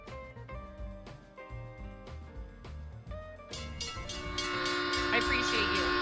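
Twitch hype train alert sound effect with a train horn: blaring tonal horn blasts and musical chimes that swell fuller and louder toward the end.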